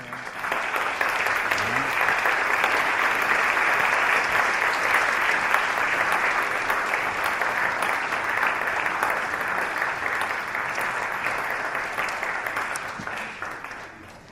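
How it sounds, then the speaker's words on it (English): Pageant contestants return to the stage to sustained audience applause, a dense, even wash of clapping that holds steady for about fourteen seconds before fading at the end. "they deserve a huge amount of applause."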